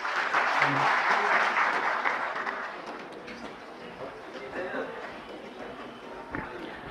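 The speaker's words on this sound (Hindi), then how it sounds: "एक बार तालियों से उनका स्वागत करेंगे प्लीज" An audience applauds to welcome a speaker at a CSC-organised workshop on Aadhaar centres: dense, steady clapping from many hands that gradually thins and fades over several seconds, with voices faintly audible beneath.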